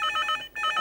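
A telephone bell rings in a TV drama scene, two loud electronic trill bursts separated by a brief gap, with no talking.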